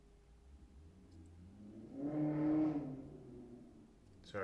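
A flashy car revs and accelerates on a nearby road, its engine note swelling to a peak mid-clip and then fading as it passes, fairly faint against a quiet room.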